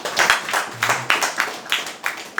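A church congregation claps in a brisk, even rhythm, around a dozen sharp, loud claps close together, with no talk.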